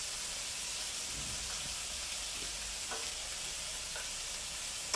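Filet steak fries in butter in a pan, giving a steady, dense sizzle with faint scraping as the pieces are stirred, close and continuous throughout.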